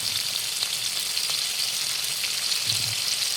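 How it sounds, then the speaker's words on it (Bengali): Chopped onion and garlic fry in hot oil with cardamom in a pan, giving a steady, close sizzle and crackle that runs unbroken, with a soft stir near the end and no talking. "ভাজা ভাজা হয়ে গেছে, আমি এর মধ্যে দিয়ে দেবো পেঁয়াজ কুচি, দিয়ে দেবো রসুন কুচি"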